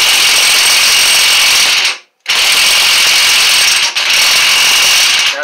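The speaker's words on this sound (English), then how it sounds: "now I'm going to do a counterclockwise again for loosening" A loud, fast electric ratcheting whir loosens a stubborn axle nut on a 1991 Mazda 626, running continuously in two long bursts with a brief pause between them, close and dominant.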